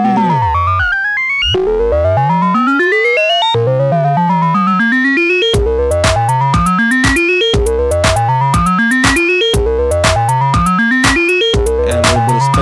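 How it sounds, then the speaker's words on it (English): A Korg Volca Modular synthesizer patched with ring modulation plays loud, repeating sequences of upward-sweeping metallic tones with harsh clangorous overtones, with some passages chopped into quick percussive bursts. "Hear that ring modulation."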